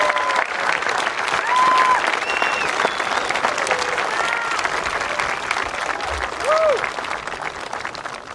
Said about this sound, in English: Can we please have a final round of applause for all of our scholarship recipients?